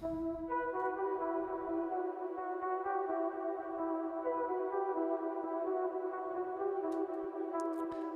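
A sustained synth lead melody with rich harmonics plays steadily at 128 beats per minute, a two-measure phrase repeating, loud and continuous with no voices.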